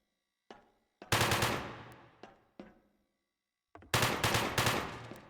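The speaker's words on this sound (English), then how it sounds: "Very, satisfying machine gun" Machine gun fire in the PIGFACE combat demo: rapid bursts of close, sharp shots with a few single reports between, followed by a second heavy burst.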